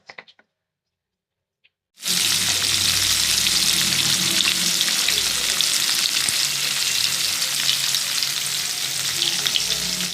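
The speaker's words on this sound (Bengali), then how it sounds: "মাছগুলো ভাজা হতে থাকুক" Pieces of rui fish fry in hot oil, a dense, loud, steady sizzle that starts abruptly after a couple of seconds of near silence and then continues unbroken, close up and without voices.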